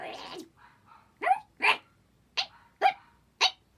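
A dog barking in short, sharp bursts, about five separate barks spaced unevenly after a brief opening sound, close and clear against a quiet background.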